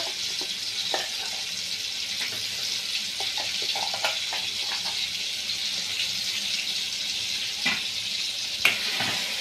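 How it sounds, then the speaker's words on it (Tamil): Ground masala paste for crab curry sautéing in a pan, giving a continuous close sizzle and frying hiss with occasional stirring scrapes, no voices. "இந்த மாதிரி பச்சை வாசனை போகிற அளவுக்கு மசாலாவை நல்லா வதக்கி எடுத்துக்கணும்"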